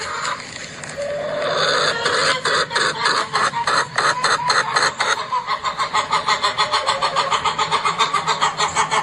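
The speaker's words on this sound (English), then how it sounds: "Now that's the sound apparently of chickens gossiping." A flock of chickens clucks busily together, overlapping calls in a steady, rhythmic chatter that grows more regular toward the end, with no talking.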